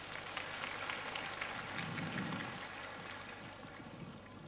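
Steady applause from a crowd, a dense continuous patter of clapping that holds evenly throughout at a moderate distance.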